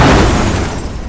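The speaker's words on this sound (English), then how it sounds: "Massive explosion." A grenade explosion thrown into a room, one loud broad boom that bursts at once and decays into rumbling debris over about a second.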